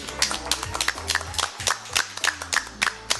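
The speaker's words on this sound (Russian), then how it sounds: "Аплодисменты." A studio audience claps in a steady, rhythmic beat, sharp hand claps repeating about twice a second over a low tonal musical backing, loud and close.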